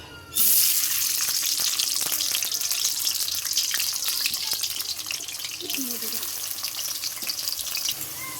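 Chopped onions hit hot oil in a kadai for a chicken curry, bursting into a loud, dense sizzle that holds steady and slowly eases, with a brief scrape midway.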